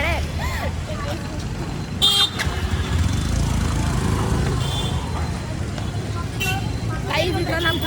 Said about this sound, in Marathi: गाड्या खूप आहे इथं